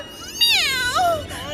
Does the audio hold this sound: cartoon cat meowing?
yes